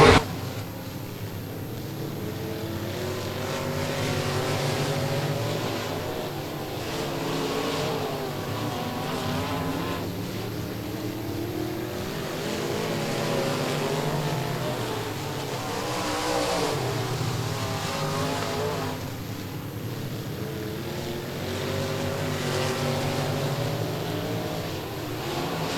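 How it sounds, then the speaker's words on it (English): Race cars roar around the dirt oval at Boothill Speedway, a King of the Hill event, engines droning continuously at steady loudness with rising and falling revs as the pack passes, no talk over it. "Watch the way Gene drives his race car."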